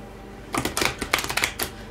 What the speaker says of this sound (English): I'm shuffling the Oceanic Tarot